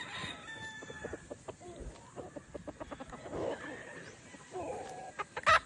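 A Sweater Boston gamefowl rooster crows and clucks at a farm, fairly faint, with short bursty calls and a louder crow near the end, amid light background noise and some talk.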